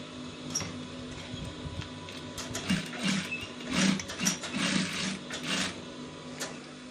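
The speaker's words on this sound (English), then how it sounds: "You do top stitching again as shown." A sewing machine top stitches a placket on a piped neckline in short, uneven bursts of close mechanical stitching over a quiet room background.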